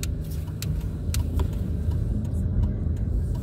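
Car driving slowly through a multi-storey car park at a club in Sydney, a steady close engine rumble with faint echoing clicks and knocks, continuous throughout.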